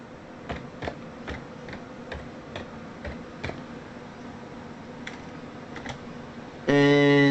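Keystrokes on a computer keyboard, typing a command to delete a virus: a sparse run of crisp, separate taps at uneven intervals, moderately close, ending in a sudden loud steady tone.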